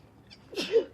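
A single quick sneeze, a short airy burst at close range with a brief voiced edge, preceded by faint rustle.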